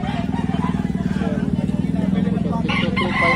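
Chickens cluck and a rooster calls amid a steady engine drone, with people talking nearby, at a poultry market in Lipa, Batangas.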